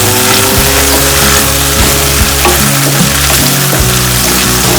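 Masala paste for a chicken kharda and gravy frying in a pan over a high gas flame, giving a loud, steady sizzle and crackle with low hum throughout and no talking.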